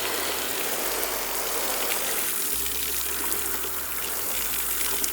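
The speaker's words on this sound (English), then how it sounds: "So there's a nice view of what it looks like when water is running over both of these." Water running steadily over micromesh gutter guards, a continuous broadband wash with a faint low hum beneath, even and close throughout with no talk.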